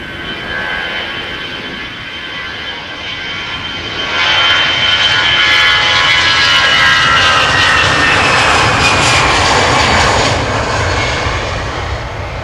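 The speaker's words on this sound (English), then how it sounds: "One of the two Irish rugby team special liveries. This one is the latest. A320 Shamrock 603 to Dublin." An Aer Lingus Airbus A320 jet in Irish rugby team special livery takes off from Amsterdam Schiphol for Dublin, its engine roar building loud and near partway through, then holding a strong whining rumble.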